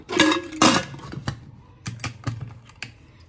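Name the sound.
lid being put on a pressure cooker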